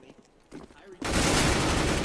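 Gunfire erupts in a competitive video game match, a dense sustained burst of rapid shots that starts abruptly after a few quieter moments and holds loud to the end.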